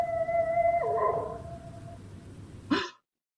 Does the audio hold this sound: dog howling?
yes